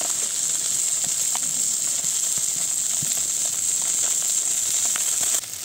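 Small carp pieces and tiny puti fish fry in hot oil in a pot over a clay stove, giving a steady, close hiss and sizzle with faint crackles throughout, alone without talk, the noise dropping slightly at the very end.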